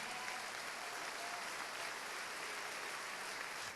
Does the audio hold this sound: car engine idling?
no